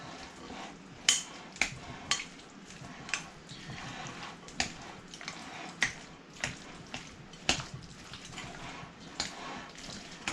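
Potato salad being stirred with mayonnaise in a bowl, giving repeated wet, sticky squelches and sharp clicks of a utensil against the bowl at an irregular rhythm, close and fairly quiet.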